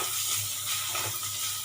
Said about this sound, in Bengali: এরপর আলুগুলো ফ্রাই করে নেব